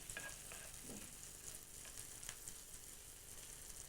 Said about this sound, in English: the initial cooking for the aubergine and onion will be approximately 5 minutes, until they've softened and just turned slightly golden